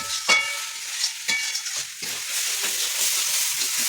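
Potatoes fry and are stirred in a home kadai, a steady hissing sizzle broken by several sharp scraping strokes of the spoon against the pan.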